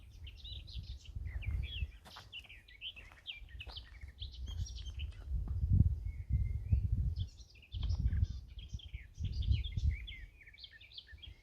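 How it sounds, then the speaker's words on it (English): Birdsong on a nature walk, with bursts of bright chirps and tweets from several birds over low rumbling footsteps and handling noise, moderately close and fairly faint. "you can hear their bird song, it's still a magical thing."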